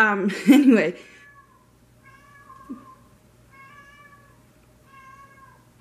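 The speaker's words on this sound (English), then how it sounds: "Lucy's whining about something. If you hear her in the background, she's our cat." A cat meows several times in a row, soft and drawn out, after a brief word from a nearby voice.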